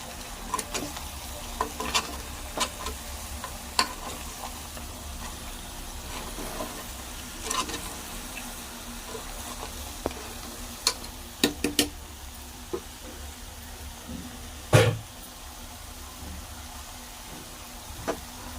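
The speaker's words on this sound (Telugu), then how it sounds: "కొంచెం మసాలా పొడేస్తున్నాను ఒకసారి కలుపుకుందాం" Masala powder stirred into a goat head curry in a pan, with a soft, steady low sizzle broken by sharp spoon ticks and scrapes at uneven intervals, close and quiet, with no voices.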